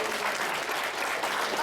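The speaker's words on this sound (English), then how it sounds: "Cheer for my dad, please." Wedding guests clap steadily in a dense, continuous burst of applause with some cheering mixed in, close and fairly loud.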